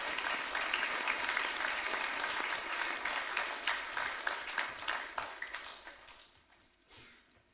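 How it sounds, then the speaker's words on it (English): An audience at a school assembly applauding, dense clapping that holds steady, then thins out and fades to scattered claps. "Can we give them a round of applause"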